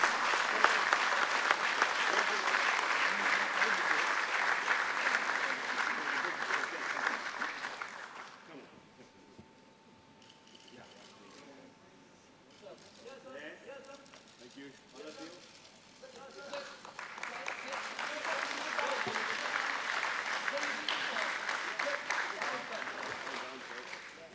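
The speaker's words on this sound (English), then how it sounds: "A round of applause, ladies and gentlemen" A crowd applauding at a carbon product launch event, loud at first, then dying away to a quiet stretch where a voice speaks faintly, before a second strong burst of clapping builds and holds to the end.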